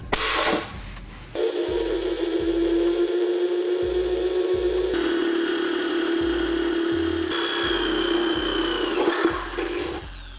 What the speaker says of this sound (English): We only have to drill, so no welding involved.